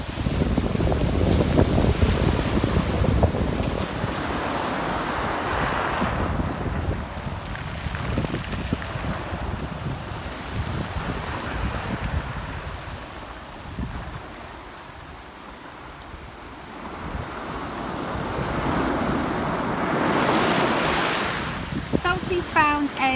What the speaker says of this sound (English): today we have high tide again and a slightly more lively sea with the waves coming in